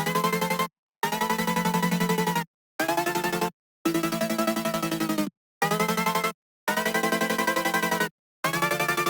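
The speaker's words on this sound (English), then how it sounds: "in the second part, I changed the chord progression to create a feeling of going higher by adding more notes" A bright synth chord progression from a melodic drum and bass track plays in repeated sustained stabs separated by short silences, each chord held for about one to two seconds, loud and alone.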